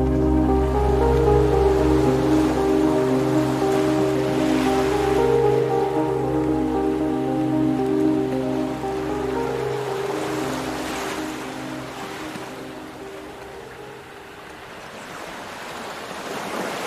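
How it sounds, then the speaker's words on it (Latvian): Large ocean waves break on a French beach in a continuous low rumbling surf, loud at first and easing slightly toward the end, with no voices. "Pludmalē sāk parādīties lieli viļņi"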